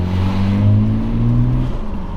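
A Nissan Skyline R34 GTR with a stroker engine drones loudly and steadily, its deep engine tone holding and rising slightly as it revs, with no talk over it.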